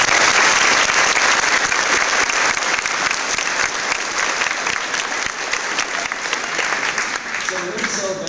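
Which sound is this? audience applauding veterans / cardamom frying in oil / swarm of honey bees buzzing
audience applauding veterans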